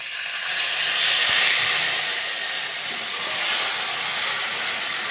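Chicken meat sizzles steadily in hot ghee with garam masala, a loud, continuous broadband hiss and crackle that swells slightly and holds for several seconds with no talking.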